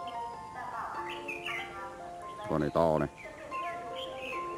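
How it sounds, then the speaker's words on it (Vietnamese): Oriental magpie-robins call in the countryside with clear, melodic whistled phrases and chirps, moderately close, while someone talks over them. "Đấy là con chích chòe đó."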